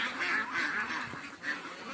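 Domestic ducks on a desert farm in Saudi Arabia give a quick series of nasal quacks, about four close, moderately loud calls in under two seconds.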